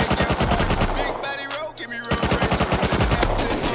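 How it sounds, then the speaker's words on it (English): Rapid automatic gunfire in the Rust survival video game, loud close bursts of rattling shots broken by a brief pause before firing resumes. "Is that a gun?"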